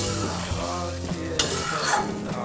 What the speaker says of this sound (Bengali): এই যে জলটা দিয়ে দিলাম